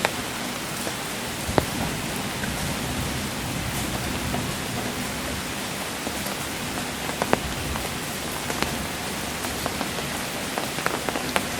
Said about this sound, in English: That rain peppering down.